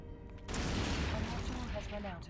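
Missile volleys and explosions in the space game EVE Online during a battleship fight, with a sudden loud burst of blasts after a quieter start, followed by sustained rumbling booms and overlapping impacts.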